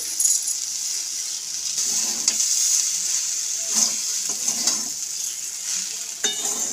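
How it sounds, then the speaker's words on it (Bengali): Dry-roasted flattened rice being mixed with fried vegetables in a pan using a metal spatula: steady close sizzle with repeated scraping and clinking strokes at an uneven rhythm, no voices. "খুব ভালোভাবে খুন্তির সাহায্যে মিশিয়ে নেব"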